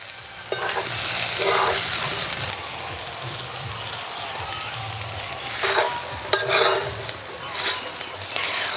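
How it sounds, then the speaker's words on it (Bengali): A spoon stirring puffed rice powder and fried peanuts into vegetables in a hot pan, with a continuous sizzle underneath, scraping strokes and occasional clinks of utensil against the pan, close by. "এবার দিয়ে দেবো মুড়ির গুঁড়ো, এভাবে অল্প অল্প করে দেব আর নাড়ব।"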